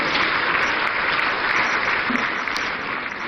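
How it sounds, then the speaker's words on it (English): An audience at a national economic dialogue event applauds steadily and loudly throughout, a dense continuous wash of clapping from many people with no talk. "A round of applause, ladies and gentlemen"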